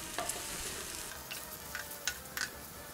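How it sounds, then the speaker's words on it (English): Thawed frozen mushrooms sauté in olive oil in a pan, a low fizzing sizzle broken by several sharp scrapes and clicks of a utensil, close and fairly quiet with no talking. "I'm just looking to kind of evenly cook the mushrooms all around"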